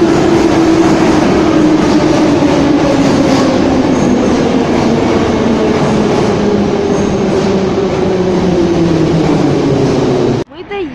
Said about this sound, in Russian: Сейчас я в метро. Жду поезд, чтобы поехать в столицу.